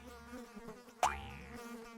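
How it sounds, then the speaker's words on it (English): Cartoon fly buzzing in a short, sharp burst that swoops up in pitch and fades, standing out over a quiet backdrop of light animated-show sound. "Buzz off, you pesky fly!"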